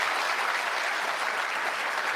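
Audience at a televised town hall clapping in steady, dense applause, continuous and fairly distant, with no speech over it.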